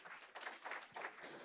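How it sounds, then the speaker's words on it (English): Brief patch of audience applause welcoming a speaker at an IIT Dhanbad talk, a soft wash of clapping that swells in a few pulses at moderate distance. "let us all celebrate our fortune with a big round of applause"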